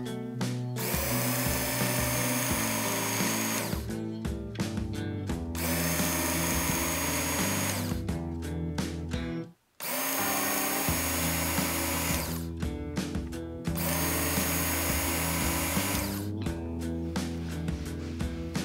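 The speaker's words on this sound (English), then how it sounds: "simply place the knife in the guide, power up the machine and pull straight through" A Work Sharp Original belt knife sharpener whirs loudly in several sustained runs as a knife is pulled through its guide, separated by short pauses and one brief silence.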